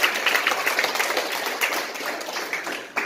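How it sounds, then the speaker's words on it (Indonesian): A church congregation at a Jakarta family blessing service applauds, a steady dense wash of many hands clapping together in a reverberant hall, sustained for the whole stretch with no voice over it. "Tepuk tangan bagi Yesus."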